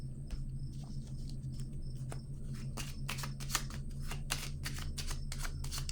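Playing cards are laid down one after another on a table during a card reading, soft crisp taps and slides that come in quick uneven bursts over a faint steady background hum.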